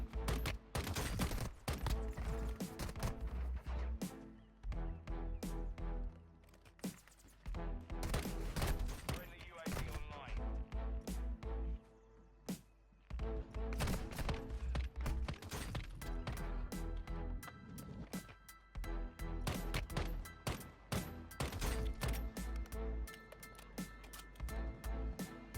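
Gunfire from a long-range gun in Warzone Mobile rattles in rapid bursts, loud and close, with brief pauses between volleys and an occasional voice underneath.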